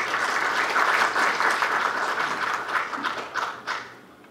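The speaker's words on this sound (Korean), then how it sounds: "힘찬 박수로 맞이해 주시기 바랍니다." An audience at a Korean public hearing on artificial intelligence technology breaks into loud, dense applause that holds steady for a few seconds before tapering off into scattered claps.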